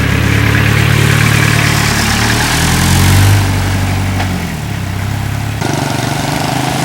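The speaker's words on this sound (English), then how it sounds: "School bus." A school bus engine idles loudly on a street in Cambodia, a steady, close rumble whose pitch dips and settles partway through, with no talk over it.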